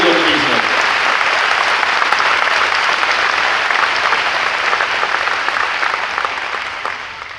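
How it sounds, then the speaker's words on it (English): Dense audience applause rings out at a 2021 high school commencement ceremony for the district's teachers, coaches and support staff, sustained and loud for several seconds before slowly tapering near the end. "can we get a round of applause for our teachers, coaches, and support staff of the district?"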